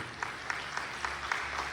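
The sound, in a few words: church congregation applauding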